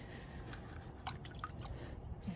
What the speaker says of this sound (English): You can already see some of it starting to come apart and then the air bubbles are coming out.